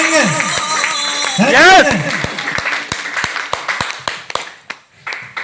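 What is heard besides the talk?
applause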